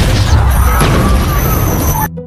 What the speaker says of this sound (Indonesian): sebuah bom menggelinding ke arah aparat, detektif dan warga yang berkumpul lalu meledak